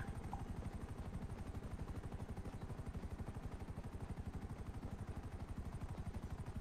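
Helicopter in GTA 5 Online, a steady loud rotor thump with fast regular blade chop throughout, mixed with game engine rumble and no talk.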